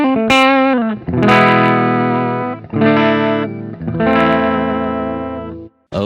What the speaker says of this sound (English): let's just go to a preset to hear the distorted sound